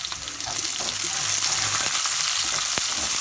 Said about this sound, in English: the garlic and the tomatoes and give that a little stir